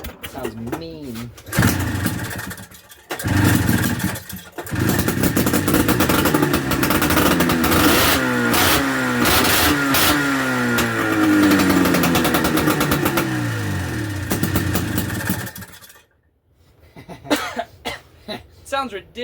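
Polaris Trail Boss 250 ATV fitted with a snowmobile engine, coughing into life and then revving hard in a loud, rough, buzzing two-stroke drone for over ten seconds, close, with people talking before and after.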